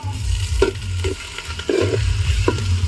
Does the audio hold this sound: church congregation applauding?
no